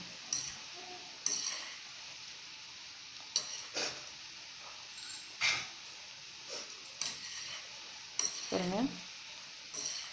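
Cauliflower pieces frying in oil until golden for cauliflower chilli: a faint steady sizzle broken by intermittent clinks and scrapes of a spoon against the pan, one brief squeak near the end, no talking.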